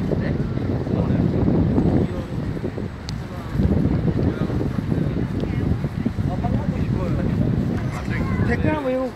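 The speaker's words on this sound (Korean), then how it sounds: "바람이 많이 불어요." Strong wind buffets the microphone in loud, continuous low rumbling gusts, with voices faintly audible underneath.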